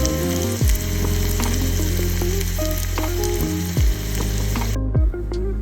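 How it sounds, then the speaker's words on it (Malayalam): Shallots tempered in hot coconut oil crackle and sizzle loudly as they are poured into a drumstick and prawn curry, a dense continuous frying hiss with a few sharper sputters. "വെളിച്ചെണ്ണയിൽ ചെറിയുള്ളി താളിച്ചത് ഇതിലേക്ക്"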